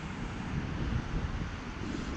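Wind gusting over a pond while fishing from the bank, a steady broad rumbling buffet against the microphone with faint lapping water beneath, continuous and loud, no talk.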